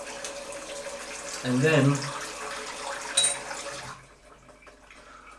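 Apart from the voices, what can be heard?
rinsing a Futur DE razor blade under running water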